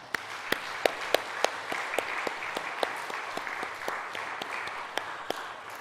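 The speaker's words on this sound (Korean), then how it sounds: "격려의 박수 한번 쳐드리겠습니다" A church congregation claps together in a steady wash of applause during a Sunday service, with a few sharper individual claps standing out, lasting several seconds without talk.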